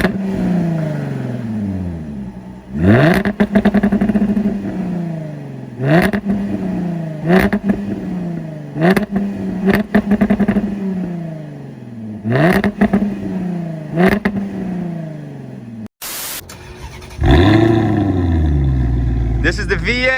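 A Maserati GranTurismo's Italian V8 barks through open exhaust valves in a series of sharp, loud revs that rise and fall repeatedly, close by, ending in a bigger final blip, with voices heard around it.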